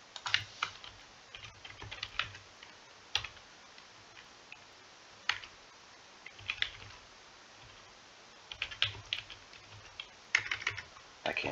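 Typing on a computer keyboard in bursts of rapid clicks separated by short pauses, close and moderately quiet, with no one speaking.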